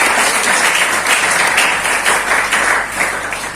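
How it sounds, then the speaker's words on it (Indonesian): Applause from a church congregation at a Christmas service fills the whole stretch, a dense, steady wash of many clapping hands that stays loud throughout. "Tepuk tangan buat Tuhan kita yang suka memberi."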